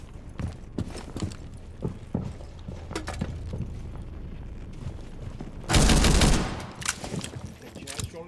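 Gunfire in the Rainbow Six Siege video game, with scattered sharp shots and clattering bursts, then a loud dense blast near the end, all mixed with game noise and faint voices.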